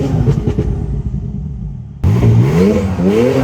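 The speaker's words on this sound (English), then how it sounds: "to rev past that rev limiter while you're in neutral" Tuned Porsche 992 Turbo S with no rev limit, engine revving hard in neutral; a loud throaty rev fades, then a sharp second burst of rising revs follows, close and without talk.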